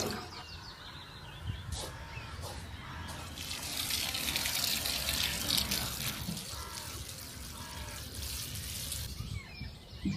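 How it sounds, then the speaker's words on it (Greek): Rainwater from a barrel runs onto a garden while it is being watered. A steady close splashing and trickling goes on throughout, with faint birds in the background and no talk. "έχουμε και ένα βαρέλι που γεμίζει με νερό της βροχής, οπότε ποτίζουμε αρκετά,"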